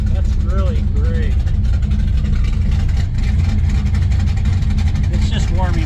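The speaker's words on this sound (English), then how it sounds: "The idle will probably drop down a little bit." A Chevrolet El Camino engine idles as it warms up, a steady low rumble held close, with a voice talking over it.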